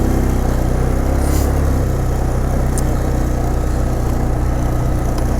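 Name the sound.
2006 Polaris Sportsman 500 EFI ATV driving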